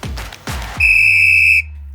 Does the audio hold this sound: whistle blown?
yes